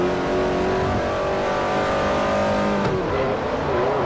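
Ferrari F430 racing in Forza 4, a loud, high-pitched engine howl holding steady then dipping and climbing again as the car shifts, close and constant with no talking.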